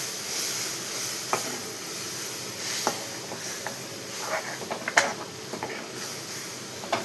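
Ground peanut and green chili paste sautéing in a pan, a steady close sizzling hiss with occasional small pops and spatters, no talking.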